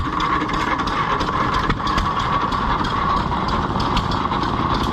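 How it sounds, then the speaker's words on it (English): An old Maytag gas engine runs steadily at a county fair gas engine display, a dense continuous mechanical chugging and clatter that stays loud and even throughout, with no voices. "We have a Maytag and another little engine."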